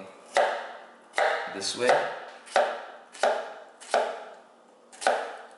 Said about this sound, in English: So as we're cutting, I'll turn the onion two ways so you can see.